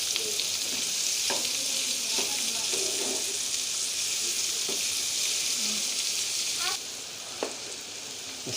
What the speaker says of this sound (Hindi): इसमें डाल देंगे टमाटर और 5 मिनट इसको पकाएंगे।